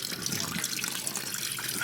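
Water runs steadily from a tap while filling for laundry at an off-grid home, a continuous broadband hiss and splash that stays loud and even throughout, with no talk.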